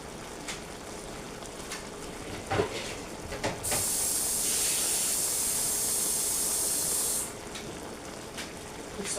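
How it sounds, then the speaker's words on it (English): Warm water poured into a hot pot of Jamaican brown stew chicken, a sudden loud bright sizzling hiss that holds steady for several seconds before dropping back to quieter kitchen background. "I'm going to put some more water in it."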